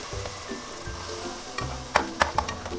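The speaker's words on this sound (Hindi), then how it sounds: "अब इसमें इसको भूनना है देसी घी में।" Grated carrot halwa in desi ghee crackles and sizzles in a pan as it is fried, with several sharp scraping clatters from the stirring spoon near the end, close up and without talk.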